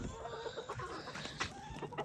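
Little black backyard chickens cluck softly and intermittently while being fed hash browns, a faint, low-level patter of short clucks close by with no talk.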